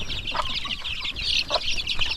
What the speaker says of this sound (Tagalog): Ayan yung may maraming sisiyo. At gutom na rin sila.